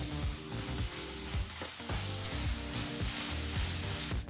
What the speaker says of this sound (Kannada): ಒಂದು ಟೊಮೊಟೊ ಹಣ್ಣನ್ನು ಹಾಕಿ ಮೂರರಿಂದ ನಾಲ್ಕು ನಿಮಿಷ ಅಂದರೆ ಟೊಮೊಟೊ ಹಣ್ಣು ಚೆನ್ನಾಗಿ ಬೇಯಬೇಕು ಅಲ್ಲಿವರೆಗೂ ಫ್ರೈ ಮಾಡ್ಕೋಬೇಕಾಗತ್ತೆ